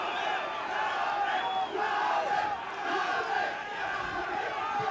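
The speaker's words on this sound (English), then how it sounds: "I think the crowd getting on the referee a little bit here." Wrestling crowd at an NWA Mexico match voicing loud, sustained shouts and jeers at the referee, a dense continuous roar of many voices with scattered yells rising over it.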